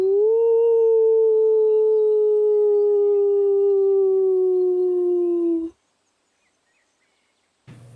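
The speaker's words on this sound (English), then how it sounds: "there's a redeem for a howl" A single long wolf howl sound effect, loud and clear, holding a steady pitch that slowly sinks for nearly six seconds before cutting off abruptly into silence.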